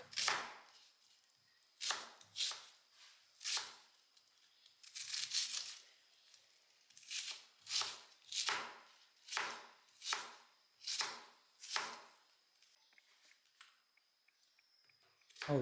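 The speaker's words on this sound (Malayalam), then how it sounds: "എല്ലാം കഴുകി വൃത്തിയാക്കി ഇനി നുറുക്കാം" Ginger and carrot are chopped with a knife on a cutting board, a dozen or so crisp, fairly evenly spaced strikes close up, with short pauses between some of the cuts, in a quiet kitchen.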